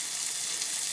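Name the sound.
salt fish fritters searing in a pot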